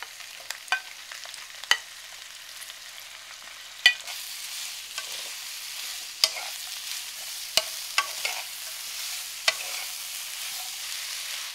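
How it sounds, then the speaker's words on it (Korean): Squid and vegetables stir-fry over high heat in a pan for a spicy cockle noodle dish, giving a steady sizzle broken by sharp, irregular clicks and scrapes of stirring; no voices. "센불에서 오징어와 채소를 넣고 빠르게 볶는다"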